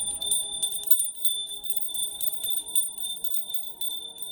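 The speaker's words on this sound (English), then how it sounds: "So I'm just going to ring the bell as we get started in our reading for this week." A small handbell is shaken repeatedly to open a tarot card reading, making a fast, even run of bright ringing strikes that carries on for several seconds. It is moderately loud and close, with no talk.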